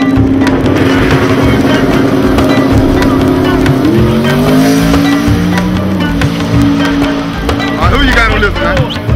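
Supercharged blower-equipped cars, one of them a Mustang, roar loudly through a race at close range, with a sustained engine drone that shifts pitch as they accelerate, a squeal near the end, and a crowd and people talking underneath.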